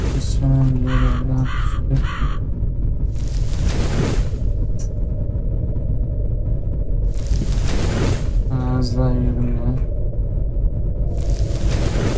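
Crows cawing in the horror video game IKAI, a few harsh caws near the start and again near the end, over a constant low rumbling ambience with intermittent hissing bursts and a voice talking.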